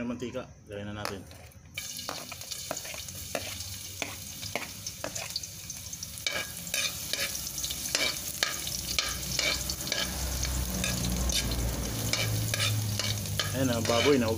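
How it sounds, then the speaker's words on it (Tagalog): Pork and garlic sizzle in hot cooking oil for pancit bato, with a steady frying hiss and repeated scraping and clinking of a utensil stirring the pan, and a voice speaking at times. "kumukulo na yung mantika. Lagyan na natin."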